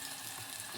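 Ginger and garlic frying for rasam, a steady, close broadband sizzle with faint low bubbling running through the short stretch, no voices.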